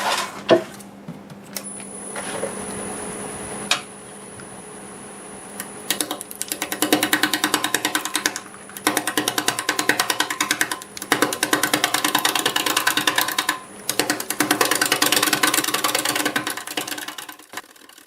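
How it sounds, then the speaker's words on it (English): A 5/8 bowl gouge cutting knotty maple on a lathe running at 580, a rapid rattling chatter in repeated bursts with short pauses, over a constant high machine whine and motor hum, with no talking. "I'll start out with a 5/8 bowl gouge and we'll just start nibbling away here"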